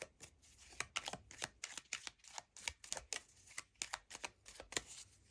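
Tarot cards being shuffled in a pick-a-card reading: a rapid run of crisp papery riffles and snaps, about a dozen bursts in irregular rhythm, close and fairly quiet, with no voices.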